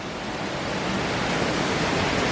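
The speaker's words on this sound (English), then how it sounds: "We're coming to the waterfall." A steady, close roar of rushing water from a waterfall in Oregon fills the air with constant broadband noise. It holds even and loud throughout, with no voices.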